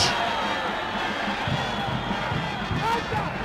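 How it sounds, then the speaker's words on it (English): Broad crowd noise from a stadium at a Dynamos FC vs Yadah football match, a steady roar of applause and cheering under a commentator's voice, with no distinct claps standing out. "He wins a round of applause for effort."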